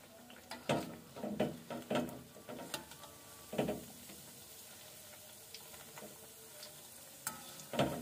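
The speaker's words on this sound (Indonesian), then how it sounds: "Goreng hingga kuning keemasan." Risoles with a creamy mayonnaise filling frying in hot oil until golden, giving soft sizzling with intermittent clinks and scrapes of a utensil stirring in the pan, close and quiet, no voices.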